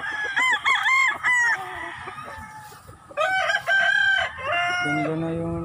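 A guard's rooster crows twice, loud and close, each a long harmonic cock-a-doodle-doo with a falling tail, separated by a brief pause and followed by a lower drawn-out note.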